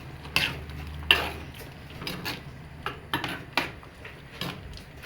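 Raw prawns tumble into a cooking pot with banana and tomato, giving a few sharp metallic clinks and knocks against the vessel followed by softer scraping and stirring taps, close and fairly quiet.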